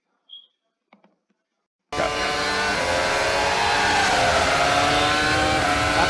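Formula 1 race car engine screaming at high revs, loud and sustained after a near-silent opening with a few faint ticks, the whine steady with slight pitch shifts as the car drives on track.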